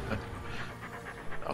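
A dog pants in rapid, rhythmic breaths in the video game Darkest Dungeon, close and fairly loud for the whole short stretch.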